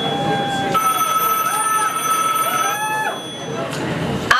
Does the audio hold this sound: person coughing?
no